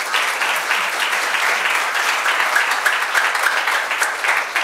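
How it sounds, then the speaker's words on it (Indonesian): A crowd applauds steadily, a dense wash of many hands clapping at an even loudness throughout. "Boleh kita tepuk tangan dulu."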